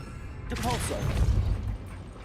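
A Depulso spell cast in the video game Hogwarts Legacy gives a swelling whoosh that ends in a heavy low rumbling thump lasting under a second. A voice briefly speaks over the start.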